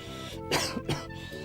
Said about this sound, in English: Apologies on the cough a bit